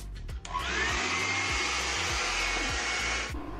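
A LittlePaws PetieTec pet dryer blows air on a Maltese dog, switching on after a brief click into a steady, close whooshing roar with a faint whine, then cutting off near the end.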